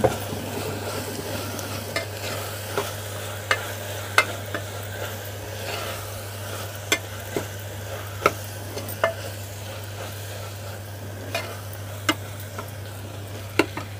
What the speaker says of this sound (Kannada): ನೋಡಿ ಎಣ್ಣೆ ಬಿಡ್ಲಿಕ್ಕೆ ಸ್ಟಾರ್ಟ್ ಆಗಿದೆ. ಈಗ ನಾನು ಅಚ್ಚಕಾರದ ಪುಡಿ ಹಾಕ್ತಾ ಇದ್ದೀನಿ.